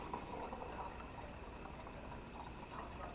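Distilled water pours into a coolant reservoir while a PC is being built, a faint steady trickle and splash of liquid filling a container, continuous and close, with no talking.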